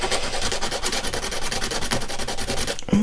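An emery board sands a small handmade doll cleaning item, giving a steady, close scratchy rubbing in fast repeated strokes that carries on throughout without a pause.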